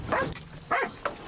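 A police dog barks two or three times in short, sharp bursts, fairly close by.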